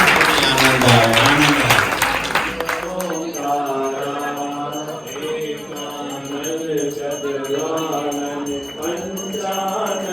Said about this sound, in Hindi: आप सब ताली बजाएं